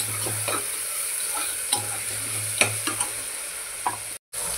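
Chopped tomatoes and potatoes sautéing in a pan, a continuous close sizzle broken by sharp spatula scrapes and taps against the metal, with a brief dropout near the end.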